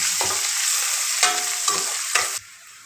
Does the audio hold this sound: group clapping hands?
no